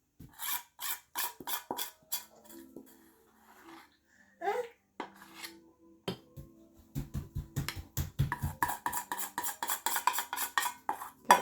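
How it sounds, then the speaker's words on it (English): A spoon or spatula scrapes thick sourdough starter from a mixing bowl into its jar, giving repeated short scraping and tapping strokes that quicken toward the end, with a few louder knocks in between. "Scrape it all down, make sure it's all in there."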